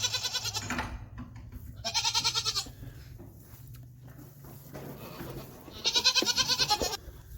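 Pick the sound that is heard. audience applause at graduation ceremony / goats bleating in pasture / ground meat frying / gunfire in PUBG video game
goats bleating in pasture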